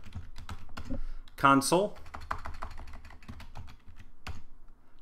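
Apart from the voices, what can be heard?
typing on a computer keyboard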